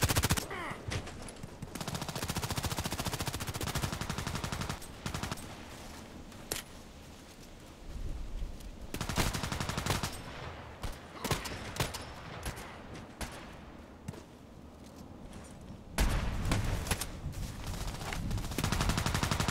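Rapid bursts of SKS rifle fire from a shooter video game, with loud, dense volleys separated by short pauses and several distinct flurries spread across the stretch.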